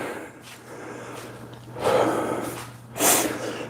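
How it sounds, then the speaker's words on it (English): Heavy breathing during active recovery after an exercise set, with slow, loud exhalations and snort-like breaths through the nose coming in two strong bursts, close to the microphone, with no talking. "Breathing."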